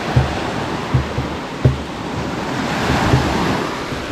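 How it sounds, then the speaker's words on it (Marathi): Ocean waves wash onto a beach at a campsite near Mumbai at night, a continuous broadband surf roar with wind noise on the microphone and a few soft low thumps. "फक्त आवाज आहे का पाण्याचा."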